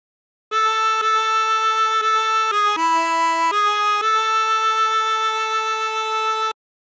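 A chromatic harmonica plays a phrase of House of the Rising Sun, a run of sustained reedy notes moving in steps, with one brief lower dip midway, solo and close.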